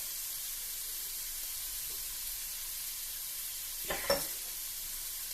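Ground pork frying in a pan makes a faint, steady sizzle throughout, with a brief louder stir or scrape near the end.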